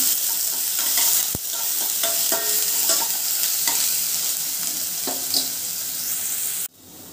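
Chopped onion sizzles steadily in hot oil in a pan, with a spatula scraping and stirring in irregular close knocks throughout, the frying cutting off abruptly near the end.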